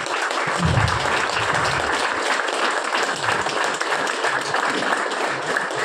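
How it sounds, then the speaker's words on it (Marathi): A gathered audience claps loudly, a steady dense wash of applause that holds evenly throughout without breaks, with a faint voice briefly underneath near the start. "एकदा जोरदार टाळ्या होऊन द्या, जोरदार"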